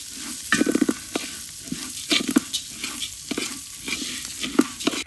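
Raw rice and whole garam masala sizzle and crackle in hot oil as a spoon stirs through repeatedly, giving a steady hiss broken by scraping strokes, close and fairly loud with no talk.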